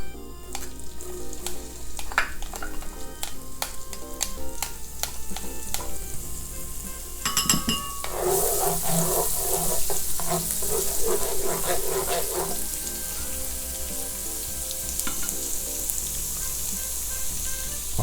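Garlic sizzles loudly in hot annatto oil for chicken bopis, a steady crackling fry that swells as more is added, with occasional utensil clinks and stirring, no talking.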